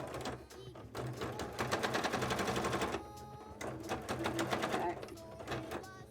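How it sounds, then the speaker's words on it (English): A sewing machine stitches through very thick fabric for a cosplay build, giving rapid, loud mechanical chattering in two bursts separated by a brief slowdown, while a voice speaks briefly over it. "sewing through like those really thick fabrics that your machine doesn't want to go through"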